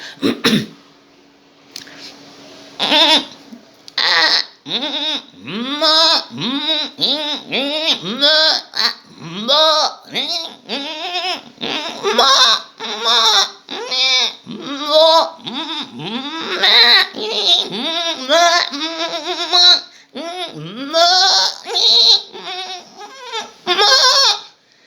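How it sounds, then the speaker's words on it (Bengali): Goats bleat at dawn over and over in a loud, close chorus of overlapping wavering cries that carries on throughout. "ভ্যারাইটি ছাগল ভোরবেলার দিকে ডাকছে, ভোর হয়ে গেছে তো ডাকছে।"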